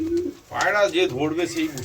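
Several pigeons coo in soft, rolling warbles, close by and fairly steady through the clip, with faint background noise.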